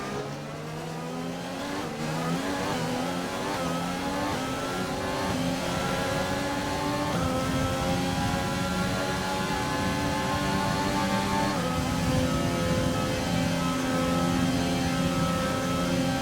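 An F1 car engine in the F1 2020 game at the Canadian Grand Prix, trailing a McLaren, screams loud and steady with rising and falling revs through gear changes, alone without talk.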